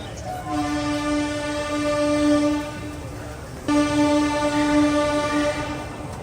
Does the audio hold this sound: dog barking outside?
no